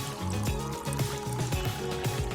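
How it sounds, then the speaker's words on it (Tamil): Water flowing through a pipe near the Paruvathamalai cave temple, a gurgling trickle with repeated bubbly pulses and dripping, fairly close and steady, with no talk. "இந்த பைப்பில் தண்ணி போகிற சவுண்டு பார்த்தீங்கன்னா உங்களுக்கு கேட்கும்."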